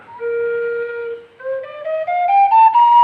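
A Thai khlui bamboo flute holds a clear low note on second-octave Do, then climbs step by step through a short rising scale, played close and alone.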